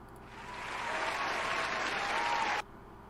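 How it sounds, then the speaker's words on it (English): A swell of crowd applause that builds over a second, holds steady with a faint whistling tone, then cuts off abruptly, like a clip played back during an animation contest livestream. "applause"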